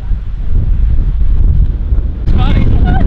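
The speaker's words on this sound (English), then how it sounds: "The wind has just picked up" Heavy wind buffeting the microphone in a loud, continuous low roar, with a voice briefly speaking near the end.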